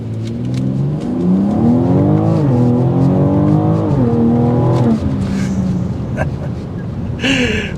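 A 2024 BMW X4 M Competition crossover accelerates hard from 0 to 60, its engine climbing loudly through rising revs with brief shift dips, then easing off, heard close from inside with talk over it.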